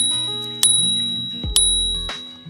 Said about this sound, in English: Everyone likes a built-in bell.